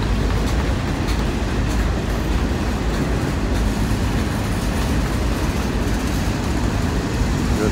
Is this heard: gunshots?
no